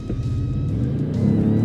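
Ford Expedition V6 revving hard on a launch, a loud, close engine roar climbing steadily in pitch across the whole stretch, with no talking.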